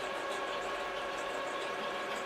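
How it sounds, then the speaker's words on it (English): Photo printer agitating its ink tanks during a fine-art print job, a faint steady mechanical whir and hum that runs evenly throughout with no speech. "That noise you hear is the printer agitating the ink tanks."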